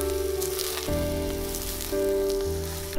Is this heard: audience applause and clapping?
no